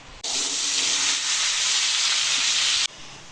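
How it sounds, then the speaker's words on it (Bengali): Diced potatoes hit hot mustard oil in a pan and set off a loud, steady sizzle that starts abruptly, holds evenly for about two and a half seconds and then cuts off. "তেল গরম হলে আলুগুলো আমি একটু লাল লাল করে ভেজে নেব।"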